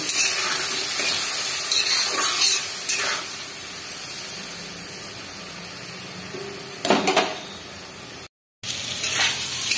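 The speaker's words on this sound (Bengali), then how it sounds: "আলু ভাজা ভাজা হয়ে গেছে" Potatoes frying in a pan during preparation of a hilsa fish curry, giving a steady close sizzle with a few louder stirring scrapes and a brief break in sound near the end.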